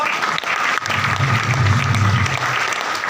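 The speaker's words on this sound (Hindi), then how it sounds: "वकील साहब ताली बजा दीजिए वकील साहब के लिए।" An audience at an RCM business seminar claps for a lawyer, a dense, loud, steady round of applause from a crowded room that fills the whole clip.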